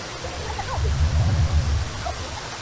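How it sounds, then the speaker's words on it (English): Mantayupan Falls, a 98-metre waterfall in Cebu, Philippines, roars as a steady broadband rush of falling water, with a louder low swell in the middle and faint talk in the background. "This waterfall here is 98 metres."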